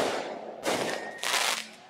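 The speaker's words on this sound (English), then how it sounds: "as the fireworks burst in the sky" Fireworks bursting in the sky, heard as two broad, crackling blasts about half a second apart, each with a short sizzling tail, at moderate distance with no voices.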